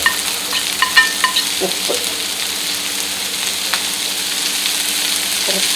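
Chopped onion, ginger and green chilli fry in a pan for an egg kabab roll snack. They give a close, continuous sizzling hiss with a few stirring clicks and one brief spoken word.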